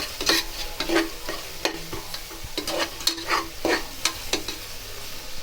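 Ginger garlic paste sautéed and stirred in a pan, with repeated scraping strokes of a spoon over a soft background sizzle, close and with no talking.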